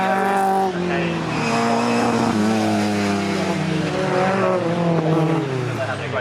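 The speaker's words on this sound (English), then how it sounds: "Mark Eales comes out off Barn corner and crosses the line." MG Metro race cars in an MG Metro Cup race at Cadwell Park, a car powering out of Barn corner and across the line, with a loud, close engine note whose pitch climbs and falls as it revs through the gears.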